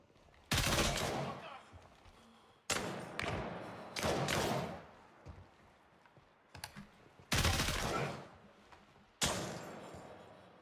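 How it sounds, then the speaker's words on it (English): Sniper gunfire in the military shooter Gray Zone Warfare: several sharp, loud rifle cracks spaced a few seconds apart, each trailing off into a rolling echo, with faint background rustle between shots. "I'm getting sniped at."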